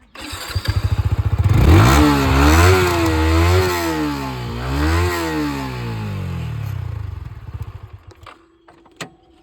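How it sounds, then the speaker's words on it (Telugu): A Yamaha R15 V3 motorcycle, a 2024 model in full condition, starts up close by and idles, its engine rising and falling through a couple of revs before shutting off with a short clack. "ఒకసారి ఇంజిన్ మీకు స్టార్ట్ చేసి చూపిస్తున్నాను ఫ్రెండ్స్"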